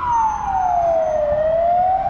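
An ambulance siren wailing in a single long, steady tone close by, loud over low traffic rumble in a jam on the Basarab overpass in Bucharest.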